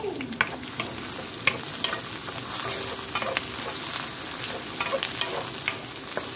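Tomatoes hit hot oil in a pan for sinigang na bangus, giving a continuous crackling sizzle with frequent spatters and stirring scrapes, close and steady throughout.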